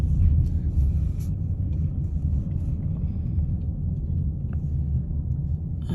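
Trucks pass during Hurricane Beryl in Houston, a loud, steady low rumble of heavy engines and road noise lasting several seconds, with wind buffeting the microphone.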